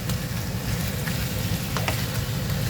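White onions sizzle steadily in a hot pan alongside pork chops, giving an even, continuous crackle with a heavy low rumble underneath and no talking.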